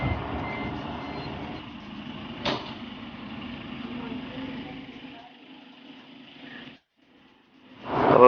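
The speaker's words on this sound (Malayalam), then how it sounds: "വണ്ടി ഇത് സ്റ്റാർട്ടാക്കിയിട്ടുണ്ട് പുറത്തിട്ടിട്ട്" A camper van is started and reversed out, its engine idling under a steady hum with a sharp click near the middle, then a brief drop to near silence before a loud burst at the end; faint voices are present.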